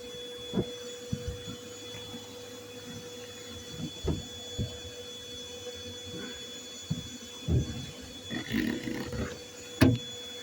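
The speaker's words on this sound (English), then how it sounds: "Gotta turn up the vacuum again." A vacuum runs steadily while collecting bees from a boat, its hum constant in the background with intermittent knocks and handling clatter, no talking.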